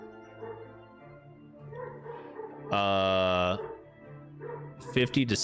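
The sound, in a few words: dogs barking in the background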